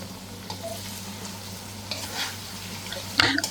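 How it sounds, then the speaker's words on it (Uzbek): Red carrots for Uzbek plov fry in hot oil with a soft, steady sizzle as a utensil stirs them now and then, and a sharper scrape of metal on the pot comes near the end. "Qizil sabzimizni ham qovurib olamiz."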